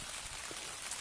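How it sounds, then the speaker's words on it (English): Rain falls steadily on a Trailstar tent on Dartmoor, a dense close hiss of drops pattering on the fabric. "But it's raining again now."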